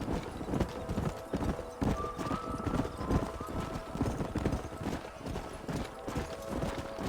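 Horses in the Red Dead Redemption remaster game gallop with steady, busy clip-clop hoofbeats and an occasional neigh, loud and continuous throughout.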